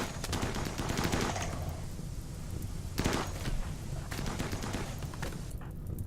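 Rapid video game gunfire in Rimworld, dense bursts of automatic shots and bullet impacts crackling in clusters, loud and busy with brief pauses between volleys, no talk.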